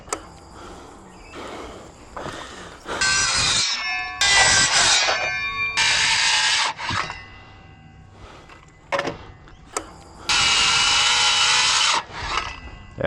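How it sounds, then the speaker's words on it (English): A power saw cuts a wooden stair post at a 45-degree angle in several loud, close bursts of whining, rasping cutting, separated by short pauses and quieter handling sounds. "I'm going to cut it at a 45"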